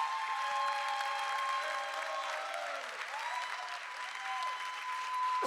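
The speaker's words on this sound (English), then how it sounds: "Feel free to keep clapping." A crowd applauds steadily and warmly, sustained clapping filling the room, with a few faint voices and whoops mixed in.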